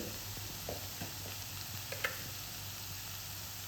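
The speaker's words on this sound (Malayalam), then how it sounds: "ഉള്ളിയും പൊടികളിട്ട് നല്ലോണം മിക്സ് ചെയ്യാം" Onions sautéing with pepper, garam masala, turmeric and coriander powders in a pan, a soft continuous sizzle with a few light scrapes of a spoon stirring.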